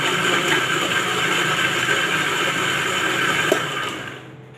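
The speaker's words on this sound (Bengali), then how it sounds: "এটাকে একটু অল্প একটু আমরা ব্লেন্ড করতে হবে, বেশি না" A kitchen blender whirs steadily at close range, blending lemons for Brazilian lemonade, a dense continuous motor roar that runs for several seconds before cutting off and fading at the end.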